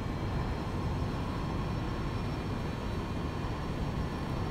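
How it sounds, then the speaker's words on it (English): Constant broadband roar of airliner engines in the X-Plane 11 flight simulator, a steady, unbroken drone at moderate level with no voices. "Oh, the engines are going to blow up"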